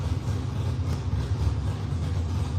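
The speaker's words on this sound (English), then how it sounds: "that exhaust sound is very unhealthy." A vehicle engine with a loud, poorly muffled, failing exhaust drones in a continuous low rumble, steady and close throughout.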